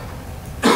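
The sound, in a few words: cough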